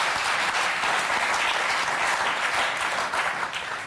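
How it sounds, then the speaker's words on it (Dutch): A studio audience on a Dutch television sports talk show breaks into dense, steady applause that stays loud and even throughout, then eases slightly at the very end. "geef ze even een groot applaus"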